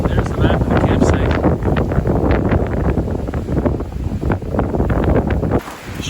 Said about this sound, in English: That wind, it's typically always windy here.